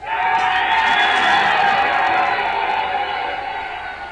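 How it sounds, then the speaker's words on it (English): Cheering crowd sound effect from UPurMEMORY software played on task completion, a loud sustained burst of whoops and shouting lasting several seconds, fading slightly at the end. "It will cheer for you when you're done"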